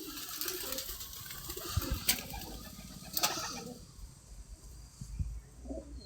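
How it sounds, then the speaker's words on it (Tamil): New pigeons land and feed, with a few soft wing flutters and light pecking taps over faint background ambience. "புதுப்புறா இறங்கி மேய்ச்சி பாருங்கள்."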